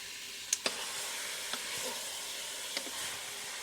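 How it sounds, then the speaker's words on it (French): Meat browning in a pan with onions and garlic, a steady soft sizzle with a few sharp pops and light stirring clicks, close and fairly quiet. "je vais laisser dorer la viande en fait sur chaque face"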